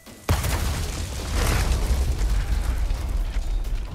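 Dynamite explosions in Resident Evil 4, thrown by villagers: a sharp blast lands after a brief quiet start, then a dense, loud rumbling roar of booms and debris carries on to the end, with no talk.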